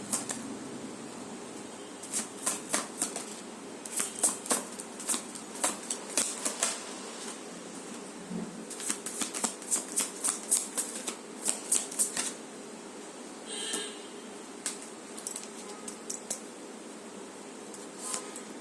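Tarot cards being shuffled by hand in a quiet room, giving repeated soft riffling and flicking bursts in uneven rhythm, close and fairly faint, with no talking.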